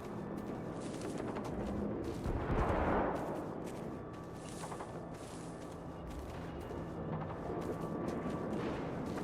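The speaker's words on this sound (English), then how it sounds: "I'm kind of walking towards the gunfire noises." Distant bursts of video game gunfire in Generation Zero crackle and boom sporadically against a steady background rumble, with one louder blast standing out partway through.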